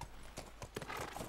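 Horse hooves clip-clop in The Last of Us, a handful of quick, faint hoof strikes on hard ground in an uneven trotting rhythm, heard alone.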